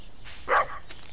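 A single short bark from a dog in the video game Stardew Valley, clear and fairly close over quiet game background.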